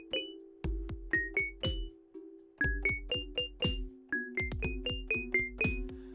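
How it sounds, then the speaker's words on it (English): Plinky synthesized bell tones with a short attack and brief release play a rising and falling melodic pattern over steady low background music, each strike clear and close, with no talking. "The bell sound has a little strange pitch."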